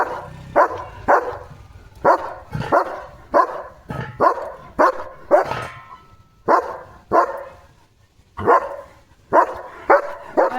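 A dog barks repeatedly near a flock of sheep, sharp close barks coming in quick pairs and short bursts with brief pauses between them.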